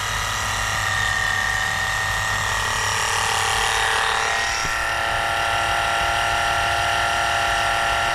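Fluid pump drawing transmission fluid out of an Infiniti QX80, a steady mechanical whir and slurp holding at an even level throughout with no pauses.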